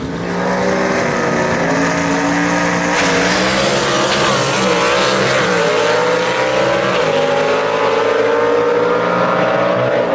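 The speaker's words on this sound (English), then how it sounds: "Jerry Burke clicks off another good run, so he moves on another round" A gasser drag race car roars down the strip at Shadyside Dragway, its loud engine droning steadily and close for the full run with no break.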